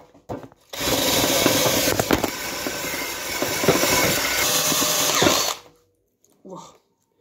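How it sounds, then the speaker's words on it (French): A wire brush scrubs paint off a surface, making a loud, continuous abrasive rasp for about five seconds before it stops abruptly, followed by a brief voice. "C'est la brosse métallique. Ça marche hyper bien."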